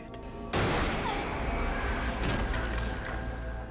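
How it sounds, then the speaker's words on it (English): A single sudden gunshot in a tense crowd scene from V for Vendetta, with a sharp loud onset and then a sustained roar of chaotic noise that stays loud to the end. "He shot a child."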